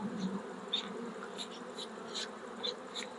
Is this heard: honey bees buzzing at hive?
yes